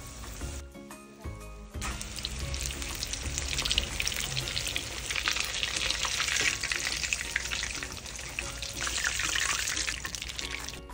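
Breaded chicken cordon bleu frying in hot oil, a steady bubbling sizzle that swells and crackles continuously, with a few utensil clinks at the start.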